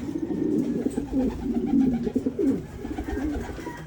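Pigeons in a hobby loft coo near the microphone, a steady, overlapping run of low throaty calls that fills the whole moment with no talk over it.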